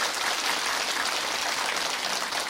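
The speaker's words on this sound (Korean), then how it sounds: "박수하겠습니다." A steady round of applause from a sizable congregation at a Korean church Sunday service, dense and even clapping sustained throughout without voices standing out.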